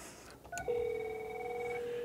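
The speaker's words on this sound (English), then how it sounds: "When your phone rings, you're receiving calls" A desk phone rings with an incoming call, a steady electronic tone rising after a brief click and holding continuously, fairly loud and close, with no talk.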